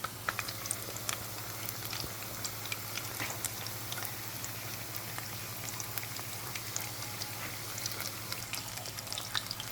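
Shrimp fritters frying in hot oil, giving a steady, dense crackle and hiss with scattered tiny pops that stays even throughout over a low constant hum, with no voices.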